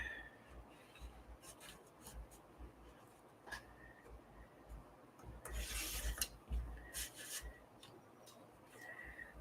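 Craft material being trimmed for a Halloween folio, soft scraping and rasping cuts in short strokes, faint and close, growing a bit louder with a burst of quick rubbing near the end.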